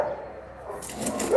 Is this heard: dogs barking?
yes